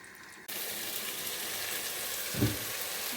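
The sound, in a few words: spices, garlic and ginger sizzling in frying oil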